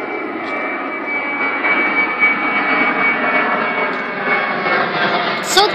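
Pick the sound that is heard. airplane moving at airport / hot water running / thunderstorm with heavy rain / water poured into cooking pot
airplane moving at airport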